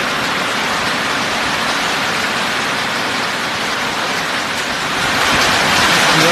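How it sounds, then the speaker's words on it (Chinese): Heavy rain pours down steadily during a rural rainstorm, a dense, continuous hiss that stays close and loud throughout and swells slightly near the end, with no voices. "这雨下的哗哗的"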